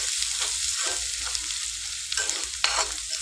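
Turmeric and ginger paste fries in a pan with an even, close sizzle and short bursts of stirring, with nobody speaking.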